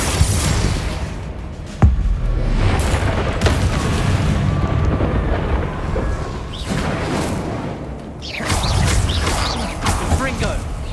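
Confringo explosive spell blasts in the video game Hogwarts Legacy, with booming crashes and dense fiery rumble filling the clip, loud and continuous, with a sharp impact early and a fresh swell of blasts near the end.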